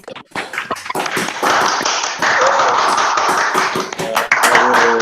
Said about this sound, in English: turn on your microphones and just give her a big round of applause